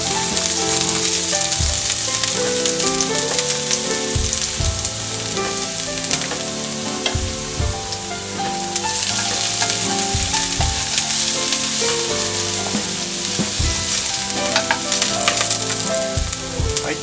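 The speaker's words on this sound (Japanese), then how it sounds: "鍋に油を敷いてにんにく入れます。" Garlic sizzles and crackles steadily in hot oil in a pot for Filipino adobo, a dense continuous frying hiss with occasional stirring clatter and no voices.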